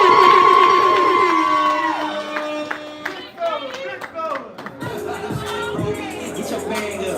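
Crowd at a mentorship event clapping and cheering, loud at first, then breaking into scattered shouts and claps with people talking over it.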